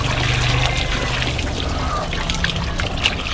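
Water pours and trickles steadily out at a fish pond, a dense, continuous close rush with no breaks or voices.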